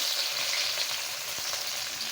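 Small fish fry in a pan with onions, giving a steady, close sizzle and crackle with a faint stirring clatter, no voices over it.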